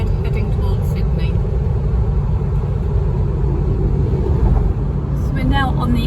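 Steady engine rumble and tyre roar from a car cruising along the old highway in New South Wales, loud and continuous from inside the vehicle, with a few faint higher chirps near the end.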